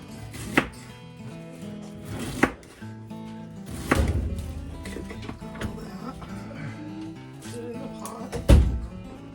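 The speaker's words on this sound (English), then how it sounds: "I'm going to cut off some of the ends of the celery, little bitty pieces to put in with the soup" Celery being chopped into small pieces with a knife on a cutting board for homemade chicken vegetable soup, a handful of irregular thuds spread out with quiet gaps and soft handling noise between.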